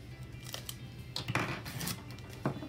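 Scissors make several quiet, crisp snips through washi tape at a crafting desk, short clicks spaced unevenly over a faint background hiss.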